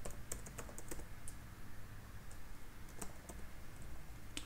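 Steady computer keyboard typing while entering database connection code for a Laravel 8 project, with irregular key clicks over a constant low background hum, close and moderately quiet, no voices.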